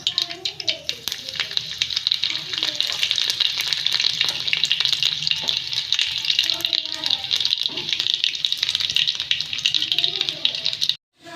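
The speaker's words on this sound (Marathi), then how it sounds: "आता आपण लसूण घालूया" Garlic hits hot oil with cumin, a loud continuous crackling sizzle with rattling spatter, under a voice speaking, then cuts off abruptly near the end.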